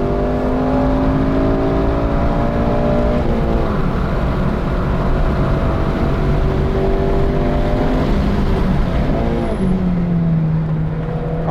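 An 8th-generation Honda Civic Si engine working hard on a race track, loud and steady throughout, its pitch sweeping up and down through gear changes and braking zones, with no talk over it.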